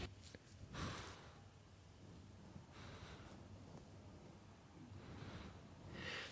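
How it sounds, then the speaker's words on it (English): A 12-year-old Shih Tzu breathing heavily right at the microphone, soft snorts and sighing breaths in an irregular rhythm, faint and close, with no talking. "No lip smacking, just some heavy breathing. He's a 12-year-old Shih Tzu."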